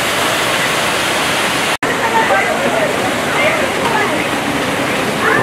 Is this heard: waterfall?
yes